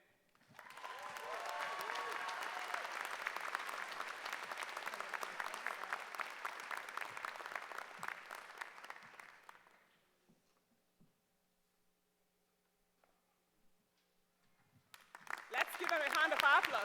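A commencement audience breaks into applause, a dense sustained clapping that holds steady for several seconds before fading to silence, then a new burst of clapping rises near the end.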